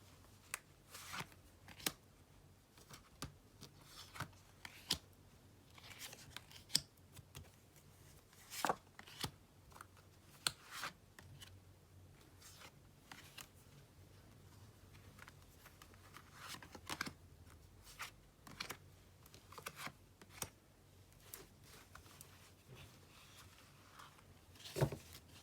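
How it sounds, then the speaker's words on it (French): Playing cards laid down one after another on a table, sharp isolated slaps and flicks at an irregular pace over a quiet room background, with no talk. "Je vais rajouter quelques cartes."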